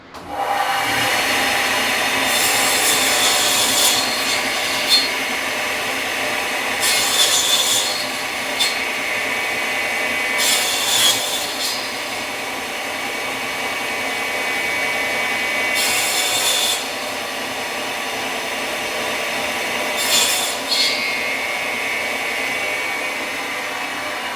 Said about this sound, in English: you can cut this into blocks, which is quite simple